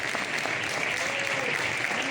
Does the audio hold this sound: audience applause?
yes